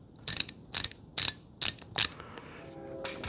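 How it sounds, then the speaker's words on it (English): A mini ratchet wrench clicks while ratcheting a fastener: five loud, evenly spaced, chunky clicks close up, then a quieter mechanical tail, with no voices. "This thing takes some effort to click through your things while you're tightening down a fastener"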